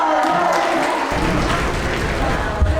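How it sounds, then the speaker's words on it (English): Applause from a crowd after a line-dancing session on a cruise ship at sea, a loud, dense burst of clapping that swells after the first second and carries on to the end. "Big round of applause."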